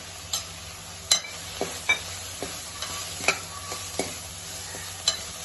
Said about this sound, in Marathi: आपला कांदा फ्राय झालेला आहे